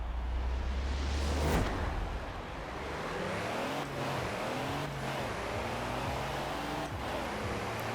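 Massive modified truck launching in a drag race in Forza Horizon 4, its engine revving hard then climbing through rising gear-shift sweeps, loud and continuous with a few sharp bursts.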